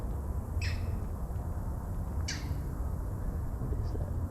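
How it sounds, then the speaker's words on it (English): An unidentified bird on a wooded mountain bike trail at Turkey Mountain gives two short, harsh squawking calls a couple of seconds apart, heard at moderate distance over steady low outdoor rumble. "I have no idea what that bird is."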